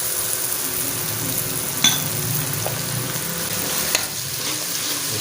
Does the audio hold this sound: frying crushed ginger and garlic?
yes